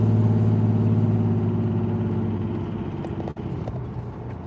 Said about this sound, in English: Hopefully you guys like some exhaust noise and the occasional misfire from fuel injector